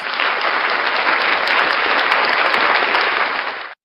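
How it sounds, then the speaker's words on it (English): Loud, dense applause for the act Unclean Hands, a continuous roar of clapping that holds steady and then cuts off abruptly at the end. "round of applause for Unclean Hands"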